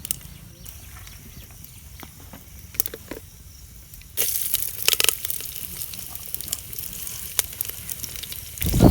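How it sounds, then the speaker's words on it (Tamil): Onions frying in sesame oil with mustard seeds and fenugreek for tempering: sizzling and crackling from a hot pan, getting louder and denser partway through, with sharp pops over a steady hiss and no voices. "தாளிக்கிறதுக்கு வெங்காயம் போட்டிருக்கேன்"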